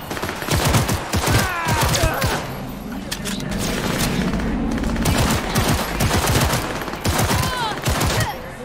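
Rapid bursts of gunfire from a legendary pistol during a firefight with gang members in Cyberpunk 2077, loud close volleys of sharp shots in clusters with brief pauses, some talk faintly underneath.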